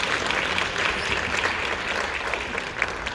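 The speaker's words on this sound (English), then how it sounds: "Give her a big round of applause." Steady applause from the audience at a Los Angeles County Board of Supervisors meeting, a dense, even wash of clapping that holds throughout with a few sharper claps near the end.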